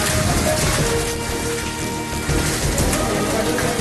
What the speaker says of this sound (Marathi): नागपूर, चंद्रपूर आणि वर्ध्यामध्ये वादळी वाऱ्यासह अवकाळी पावसाची हजेरी.